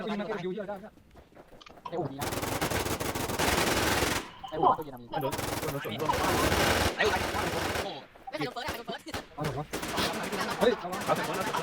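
Rapid automatic gunfire and single shots from the survival shooter game Infestation, loud and near, come in long bursts with brief pauses while players talk excitedly over it.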